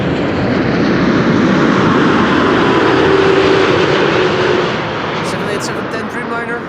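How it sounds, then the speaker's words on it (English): A KLM Boeing 787 Dreamliner arriving from Las Vegas roars loudly and steadily on approach, with a broad engine rush that eases slightly near the end while people talk over it. "KLM Flight 636 arriving from Las Vegas."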